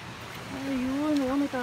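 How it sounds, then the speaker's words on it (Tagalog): A waterfall heard from a hiking trail gives a steady, distant broadband rush, partly masked by a nearby voice that hums or calls briefly over it. "Kanina pa natin naririnig yung tunog ng falls."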